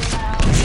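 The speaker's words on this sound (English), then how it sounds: "I actually exploded those mines with my rocket, I think." Mines set off by a rocket in a video game erupt in a short, loud burst of overlapping blasts, with a dense, crackling rumble lasting under a second.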